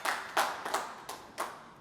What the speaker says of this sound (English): We can applaud for them, certainly.